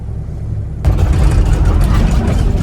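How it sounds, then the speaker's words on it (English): A farm tractor's engine, used for building a floating forestry road with a new wagon, kicks in loudly after a brief low idle and runs steadily close by. "Here's my tractor."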